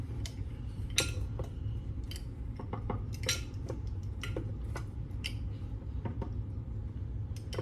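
Metal measuring spoons clink and tap in sharp, scattered bursts while ground cinnamon is measured out, close and fairly quiet over a low steady background hum.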